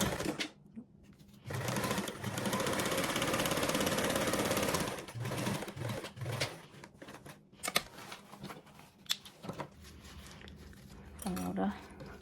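A sewing machine top stitching a connected seam on a card slot, running in a sustained burst of rapid needle chatter, then short stop-start runs, with a person talking between stitches.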